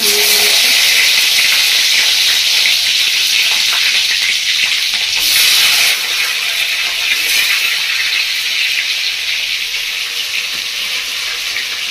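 Chopped capsicum sizzling loudly in leftover chicken-frying oil, a dense steady hiss of frying with a brief louder burst midway, close and continuous with no talking.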